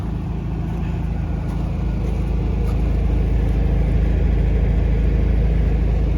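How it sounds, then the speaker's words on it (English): A 1971 VW Bus Westfalia engine idles with a loud, steady, close low rumble that holds even for several seconds, with no talking. "I just started it. It's sitting here running,"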